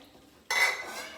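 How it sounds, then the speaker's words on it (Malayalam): Pots and dishes clatter and scrape in a home kitchen sink as they are handled for washing, a sudden close burst of clanking that continues for about a second with no one speaking. "ഇത് ഈ പാത്രം കഴുകണോ?"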